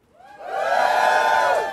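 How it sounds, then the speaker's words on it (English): A live comedy podcast audience cheers and whoops, the crowd noise swelling quickly from quiet and then holding as a loud, sustained roar. "Give us a cheer if you're in an industry where you think it's easy to drink."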